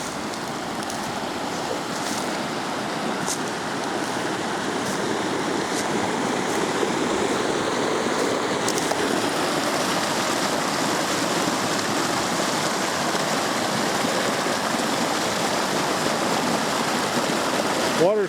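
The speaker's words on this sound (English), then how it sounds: "Water's kind of going fast and it's pretty deep." Fast, deep water rushing along a hiking trail, a steady full roar of flowing stream noise that stays loud and constant throughout with no talk over it.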